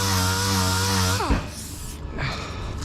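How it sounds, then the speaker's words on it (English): A power sander fitted with a 240-grit sandpaper disc works on a car body panel. Its steady motor whine winds down partway through and gives way to a rougher, gritty rubbing noise, close by and moderately loud. "Sanded and feathered everything on the other side, pretty much 3/4 of this side and the bonnet"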